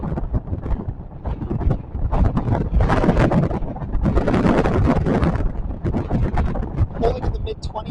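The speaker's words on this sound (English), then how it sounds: "I want to see a tropical storm force gust" Strong gusts from Hurricane Idalia at landfall buffet the microphone in loud, surging waves with roaring bursts, while a person talks over the wind.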